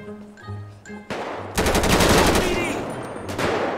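Gunfire in the video game GTA 5 with mods: after a quiet stretch with a brief voice, loud rapid automatic bursts crackle close by, followed by further shots.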